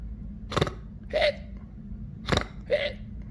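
A voice imitates hiccups for George during Peppa Pig toy play, four quick hiccup yelps in two pairs, close and clear over a quiet background.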